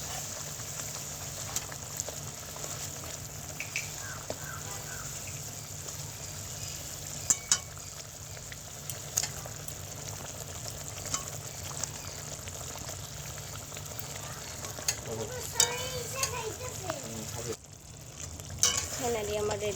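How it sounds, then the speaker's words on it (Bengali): Fish curry broth at a steady boil in a pot, a continuous bubbling, sizzling wash with faint pops and occasional clinks, close and even throughout without speech. "আমার ঝোলটা ফুটে গেছে।"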